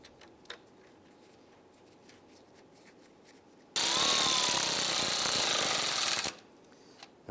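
A radiator mounting bolt on a 1995-2001 Ford Explorer is driven in with a power tool: after faint ticking in a quiet garage, one loud, buzzing burst lasts about two and a half seconds, then stops abruptly.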